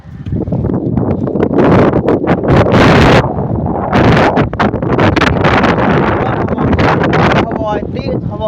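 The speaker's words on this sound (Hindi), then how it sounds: "अभी कितनी तेज़ हवा, इतनी ठंडी ठार तेज़ हवा आ चुकी है।" Strong, cold wind with rain gusts hard and roars into the microphone beside a canal, surging and easing in loud, close blasts.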